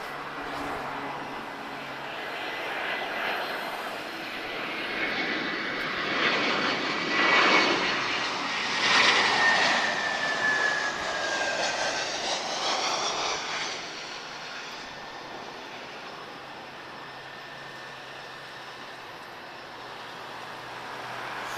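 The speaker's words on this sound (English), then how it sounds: "Then we're going to get another A330neo" An Airbus A330neo jet airliner at Lisbon Airport roars past, its engine noise swelling from a steady distant rumble to a loud peak midway before easing back into a broad, fading drone.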